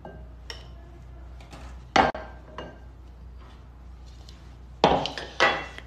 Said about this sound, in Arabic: دحين نقلب بالسباتشولا